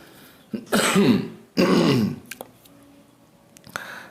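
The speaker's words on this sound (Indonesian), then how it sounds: "Sorry batuk." A person nearby coughs and clears their throat in two harsh bursts, followed by a few smaller throaty sounds and quiet clicks.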